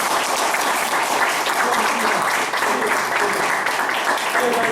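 Audience applause at a retirement ceremony, a dense and steady burst of clapping from a crowd that stays loud throughout with no talking over it.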